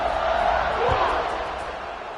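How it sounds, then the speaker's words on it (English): A football stadium crowd at a Georgia Tech at FSU game buzzes after a score, a dense, steady roar that swells briefly and then eases slightly. "this crowd is buzzing after that last score"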